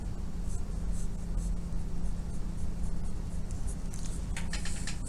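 Pencil scratching out cross-hatching lines on a drawing of scissors, a steady soft scraping with faint repeated strokes over a low background hum, growing a little busier toward the end.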